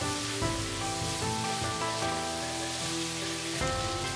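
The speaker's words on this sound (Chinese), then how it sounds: "翻炒20秒，" Diced potatoes and green peppers stir-fried together in a wok give off a steady, dense sizzle and crackle throughout, running beneath continuous background music.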